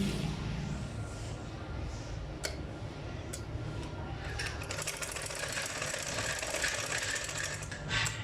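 A sewing machine stitches fabric piping along a ladies' neckline, its needle running in a steady, rapid mechanical patter at close range with a few sharper clicks and knocks.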